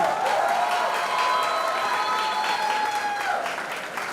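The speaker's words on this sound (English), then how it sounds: "a big round of applause for your principal" An audience at a school event for a film promotion breaks into loud, continuous applause with some cheering, a full wash of clapping that tapers slightly at the end.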